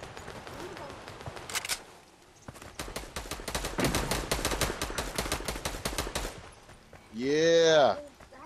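Rapid bursts of automatic gunfire from a Fortnite match, dense repeated shots over several seconds, loud and close, with excited player voices talking over the action and a brief rising synthetic game sound near the end.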